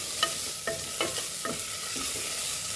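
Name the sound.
sautéing ingredients on slow flame for mutton paya soup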